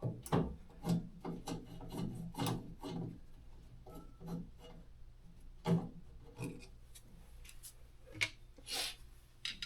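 A Phillips screwdriver works at the old lights on a 1955 Chevy, making faint, close scraping, scratching and clicking sounds in irregular bursts that stop and start over a quiet background.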